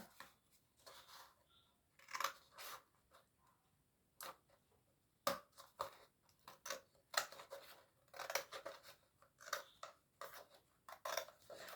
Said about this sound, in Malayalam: പേപ്പർ ഗ്ലാസ്സിൻ്റെ നമുക്ക് ഈ മേൽവശം നമുക്ക് ഇതൊന്ന് കട്ട് ചെയ്തെടുക്കണം